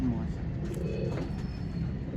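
Pigeons coo softly and faintly in the background, low murmuring calls repeating under a quiet, steady hum, with people's voices present.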